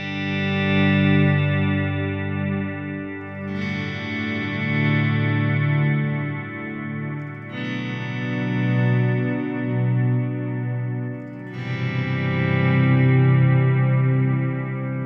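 Guitar swells run through a Strymon Timeline delay pedal alone, four slow notes fading in one after another, each a rich sustained chord with repeating delay trails layering into a wide, smeared wash.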